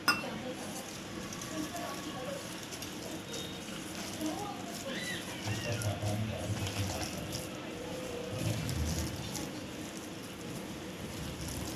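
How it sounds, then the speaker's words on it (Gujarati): Water trickling in small additions into gram flour batter for onion bhajiya in a bowl, with soft wet splashes, mixing and light utensil clinks, close and fairly quiet, with a faint voice in the background. "આપણે એમાં નાખશું થોડુંક પાણી નાખતા જઈશું।"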